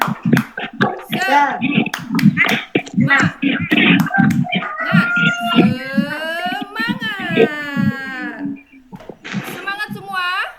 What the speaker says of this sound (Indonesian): ya kita tepuk semangat